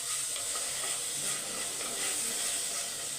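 Tomatoes and onions sauté on a high flame for a prawn and drumstick curry, giving off a loud, steady, dense sizzle that runs unbroken throughout with no talking.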